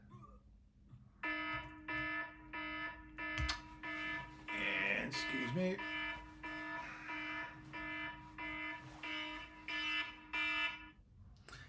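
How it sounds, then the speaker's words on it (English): A phone alarm rings in a regular repeating electronic tone pattern, loud and close, with a brief spoken remark partway through. "It's just my phone, and it sounds very important, but it's just my alarm."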